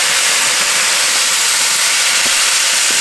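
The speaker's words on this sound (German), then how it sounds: "Und unser Sauerkraut kippen wir hier hinten mit auf die Plansche." Sauerkraut sizzling on a very hot grill pan while a Fleischkäse burger is being made, a steady dense hiss that stays loud and even throughout with no talk.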